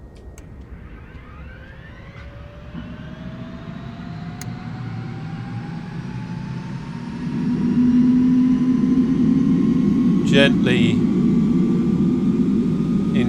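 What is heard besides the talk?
video game HH-65 Dolphin helicopter engine one starting up (MSFS 2024)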